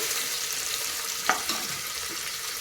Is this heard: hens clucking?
no